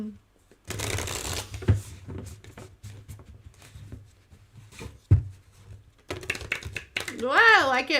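A deck of playing cards is shuffled in several quick riffling bursts, some short and clattery and one longer, with people talking between and over the shuffles.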